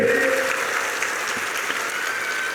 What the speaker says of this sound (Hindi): ताली बजाओ सब लोग मोमिन जी के लिए